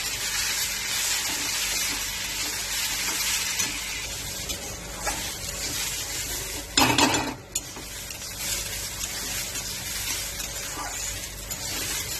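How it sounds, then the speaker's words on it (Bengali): Gobindobhog rice stir-fries in a little mustard oil in a wok with salt and turmeric, giving a steady dry sizzle and hiss under repeated scraping of the spatula, with one louder clattering burst midway. "কড়াইতে অল্প একটু সর্ষের তেল দিয়েছি এবার গোবিন্দভোগ চালটা ঢেলে দেবো দিয়ে সামান্য নুন হলুদ দিয়ে ভালো করে ভেজে নেবো"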